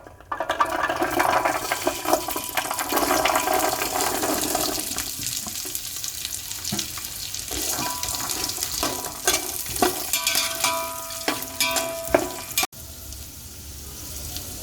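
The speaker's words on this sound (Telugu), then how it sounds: "బిర్యానీ మసాలా బాగా ఫ్రై అయిన తర్వాత సన్నగా కట్ చేసుకున్న 100 గ్రాములు బీన్స్, 100 గ్రాములు క్యారెట్ వేసుకోవాలి." Chopped beans and carrots fry with biryani masala in a pan, a steady hissing sizzle with stirring and clatter, fading near the end after a sharp break.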